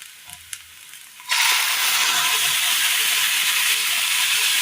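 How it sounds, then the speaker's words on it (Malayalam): After a quiet moment, a thick ground spice paste for a Kerala curry hits a hot pan and erupts into a loud, sustained sizzle and hiss that continues steadily. "ഇനി ഇതിലേക്ക് നമ്മൾ ഈ അരച്ചു കൊണ്ടുവന്ന അരപ്പ് ഒഴിച്ചു കൊടുക്കാം"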